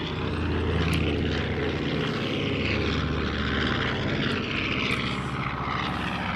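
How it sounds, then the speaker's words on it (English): A propeller airplane drones overhead at an air show, its engine a loud, steady throbbing roar that stays close and continuous throughout. "Turns out there's airplanes at this air show."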